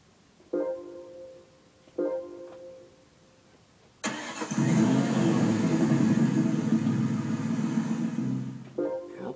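Ford Mustang engine in a racing video game played with a Logitech G27 wheel, cranking and starting with a sharp catch, then running loud and steady at a rough idle for several seconds before cutting, with short starter bursts before it.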